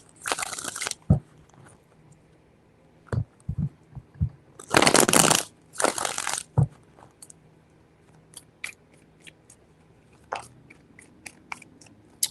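Tarot cards being shuffled by hand, a few dense riffling bursts with short flicks and taps between them, close and fairly loud, with no voice.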